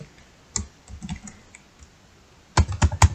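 Typing on a computer keyboard: a few scattered, light key taps, then a closer burst of four or five firmer, quick keystrokes near the end, with no talking.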